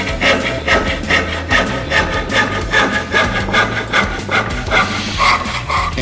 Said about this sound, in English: Can a billboard salesman cut wood?